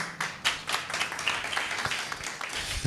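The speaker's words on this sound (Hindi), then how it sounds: "इसको कहते कंजूसी वाली ताली" Sparse, half-hearted clapping from an audience, a scattered handful of uneven claps rather than full applause, fairly quiet and with no talk.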